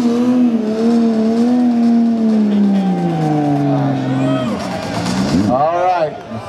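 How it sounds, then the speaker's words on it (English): Mazda Miata doing burnouts at Virginia International Raceway during HyperFest, a loud, steady engine drone with strong harmonics that sag and shift as the car holds high revs, with tire noise and a wavering pitch near the end. "Ellis Miata Burnouts, enough said."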